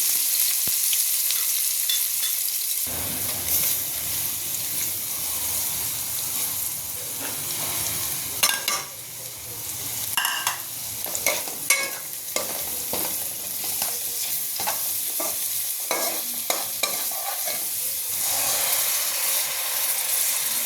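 Onions hit hot oil in a pan for a koi fish curry: quiet at first, then a sudden loud sizzle that continues strongly, broken by clattering stirring scrapes, with no voices.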